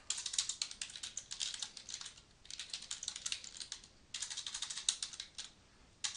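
Computer keyboard typing in three bursts of rapid clicking with brief pauses between, close and fairly quiet, entering a heading for an HTML page.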